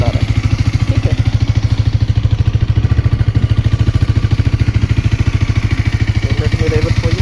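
A Hero Xtreme 250R motorcycle engine idles steadily with a low, regular chugging pulse, close and loud throughout.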